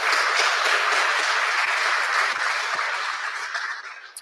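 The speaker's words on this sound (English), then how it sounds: "can we just give a round of applause for these guys?" Applause from the audience at a live dialogue event on whether history can prove the resurrection, a broad continuous wash of many hands clapping that stays steady and fairly loud before slowly tapering at the end.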